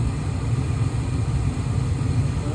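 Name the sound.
furnace inducer motor running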